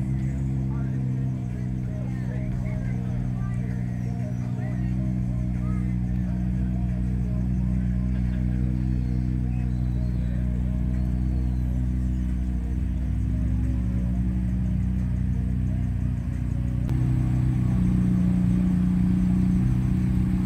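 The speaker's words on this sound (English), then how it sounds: "Here comes another Hot Wheel. Check out this Corvette Z06." A Corvette Z06 rolls past at a Texas cars and coffee meet, its engine a steady, fairly loud low hum and rumble that swells slightly toward the end, with voices talking over it.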